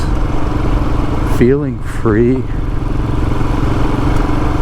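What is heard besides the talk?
motorcycle engine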